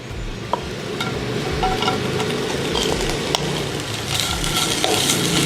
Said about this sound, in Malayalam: ഇനി നമുക്കിതിലേക്ക് തേങ്ങാക്കൊത്ത് വറുത്തെടുക്കാം.